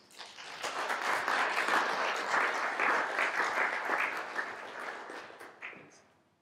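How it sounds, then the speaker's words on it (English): Audience applause at a spring high school poetry reading at Canisius, a sustained crowd of steady clapping that swells quickly, holds for several seconds, then tapers off. "give John a round of applause"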